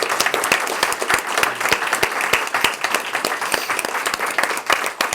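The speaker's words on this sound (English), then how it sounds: "Please, a big round of applause." Audience applause fills an awards ceremony for a 2016 Cuba infrastructure scholarship competition: dense, steady clapping from many hands, loud and sustained throughout with no talk over it.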